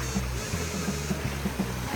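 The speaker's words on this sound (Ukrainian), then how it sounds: "І ось водоспад джерельної води." A spring-water waterfall flows as a steady, close rush of broadband splashing noise, with faint regular low thuds underneath throughout.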